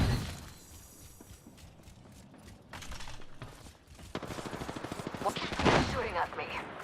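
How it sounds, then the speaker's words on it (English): Apex Legends gunfire crackles in rapid automatic strings, starting sparse and quiet, then swelling into a dense, louder rattling volley toward the end, with faint game sounds behind. "Shooting at me."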